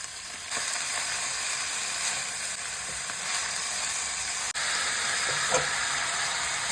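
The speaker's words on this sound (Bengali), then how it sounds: "সবজির সাথে মেথি শাকটা একটু কষিয়ে নিলাম" Fenugreek leaves with radish, carrot and beans sautéing in a pan with turmeric and salt, a steady close sizzle and hiss with a few soft stirring scrapes and a brief break midway.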